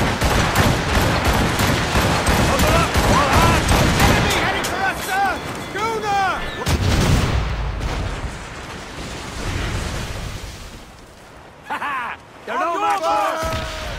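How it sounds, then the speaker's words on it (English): Puckle gun, an early repeating cannon, firing in the Assassin's Creed Rogue video game, a dense roar of rapid shots and booming blasts with a ship battle din, loud and close, thinning out toward the end. "I found out that the Puckle gun was actually invented in 1718 by James Puckle, a defensive cannon, a primitive version of an auto cannon"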